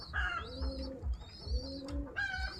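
Soft, low pigeon cooing repeats in steady rounds, close by, with a few higher chirps from other birds over it.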